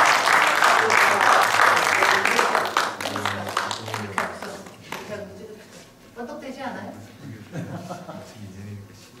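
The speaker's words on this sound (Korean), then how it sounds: "박수 부탁드립니다." Audience applause at a Korean civic academy closing and certificate ceremony, a dense burst of clapping that is loudest at the start and then thins into scattered claps while a voice talks over it.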